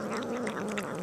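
Cat purring while eating canned food up close, a steady low rumble running through the whole brief moment with faint wet chewing above it and no voices.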